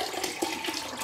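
Clean water pours through potting mix in a plant pot, a continuous close gushing, splashing rush that stays steady for about a second with no speech.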